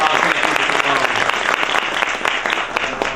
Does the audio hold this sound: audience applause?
yes